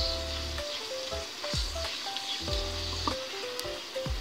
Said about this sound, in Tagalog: Pipisain. Para lumabas yung katas ng kamatis.